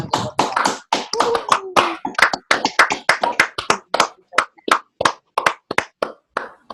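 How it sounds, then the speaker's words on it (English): Several people clap separately on a video call for an award winner, giving a loose, sharp string of distinct claps with gaps between them that thin out toward the end. "let's give her a big round of applause"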